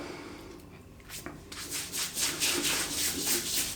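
A shaving brush working soap in a tub, close and steady: faint brushing at first, then rhythmic wet rubbing and swirling strokes building louder, with no talking.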